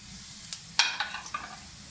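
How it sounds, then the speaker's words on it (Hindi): Carrots and mixed vegetables frying in a pan over a full flame for restaurant-style chow mein, giving soft sizzling with a few sharp stirring clatters near the start, no speech. "इसमें मैं वेजेस को फ्राई करूँगा 1 बाय 1। देखिए फ्रेंड्स, आंच फुल है।"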